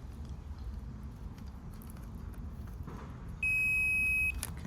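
A multimeter continuity tester gives one steady, clear electronic beep lasting about a second against quiet room noise while the wiring of a Makita power tool with seized brushes is checked.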